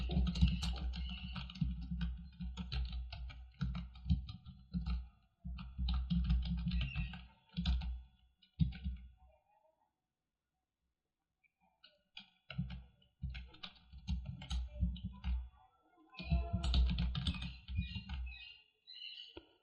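Someone types code on a computer keyboard in quick bursts of close, crisp key clicks, with short pauses between runs and one longer silent gap in the middle.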